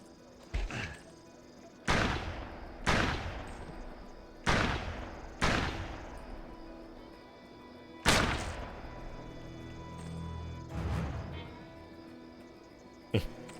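Single gunshots ring out in the PS2 western game Gun: six or seven sharp, loud blasts spaced a second or two apart, each with a short decaying tail over quiet ambience.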